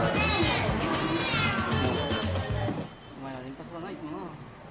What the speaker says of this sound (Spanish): Claro que algunos gatos son más amistosos que otros.